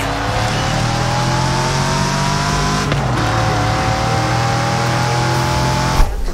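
A Saleen S7 supercar in Forza Horizon 5 holds a loud, steady engine drone with rising and falling rev pitch throughout, dipping briefly mid-way before climbing again.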